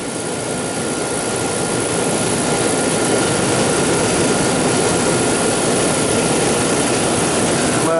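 Walk-in cooler refrigeration compressor at a market running under heavy load, a loud, constant broadband roar and hum with no change in level, close and unbroken.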